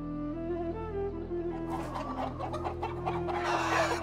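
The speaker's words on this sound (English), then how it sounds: "We got chickens." Chickens clucking in the Field of Glory Kingdoms video game, several short clucks that grow busier over a low steady game tone.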